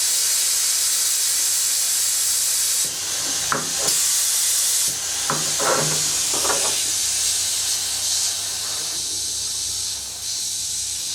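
Compressed air hisses loudly and continuously from a leak at a valve actuator, with a few brief clicks and shifts in the hiss partway through.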